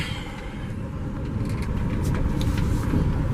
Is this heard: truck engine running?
yes